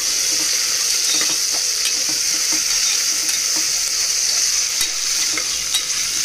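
Onions and curry leaves fry in hot oil in a pan, a loud, steady, close sizzle that crackles continuously with faint stirring clicks and no talking.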